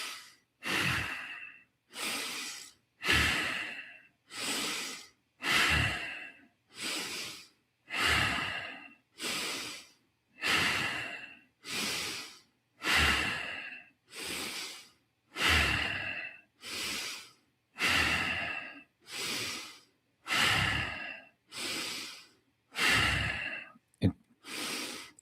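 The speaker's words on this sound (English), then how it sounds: "start with 30 rounds of bow breathing, in through the nostrils, out through the nostrils" Bow breathing through the nostrils during a chanting and breathwork session: about twenty forceful, rhythmic nasal inhales and exhales at a steady even pace, close and alone with no talk.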